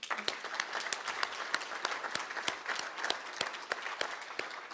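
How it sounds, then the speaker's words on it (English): A Hall of Fame induction ceremony audience applauds honorees, sharp individual claps standing out over a steady wash of crowd clapping, sustained and fairly close throughout. "one more round of applause for them"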